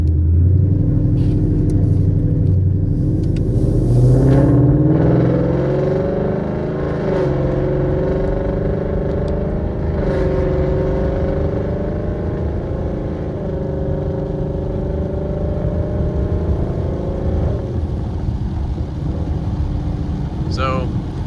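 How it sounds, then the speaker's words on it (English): Car fitted with a Roush exhaust and long tube headers driving on the road, its steady low engine drone rising and falling as revs change, continuous and close throughout. "the Roush exhaust it's pretty quiet when you want it to be quiet"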